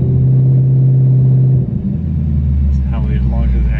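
Ford Mustang GT fitted with an ESS G3X supercharger revs up close, a loud steady drone that drops after a moment into a deeper rumbling rev, with someone talking over it.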